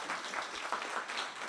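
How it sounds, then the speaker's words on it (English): Brief burst of audience applause for candidates at a meet-the-candidates gathering, a full, even patter of many hands clapping at moderate volume with no speech over it. "one more final big round of applause for all of our activities candidates."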